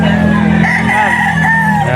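Roosters crow and chickens cluck at a poultry auction market in Bocaue, loud and close, with a long drawn-out crow over constant fowl noise and a voice in the background.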